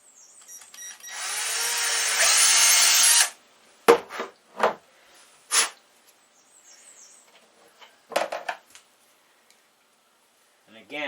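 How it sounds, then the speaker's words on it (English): A 3/32 drill bit boring a pilot hole while fitting a Weaver mount to a QB78 air rifle: a steady, close whine of about two seconds, followed by short knocks and brief bursts of handling noise. "Again, you don't want to go down too far with that drill bit."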